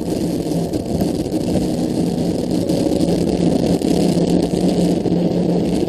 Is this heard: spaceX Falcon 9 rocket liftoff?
yes